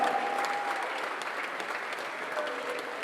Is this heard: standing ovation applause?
yes